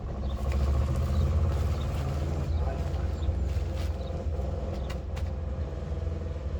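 A farm tractor rumbling past at low volume, a steady engine drone with clanking and rattling, no clear voices over it.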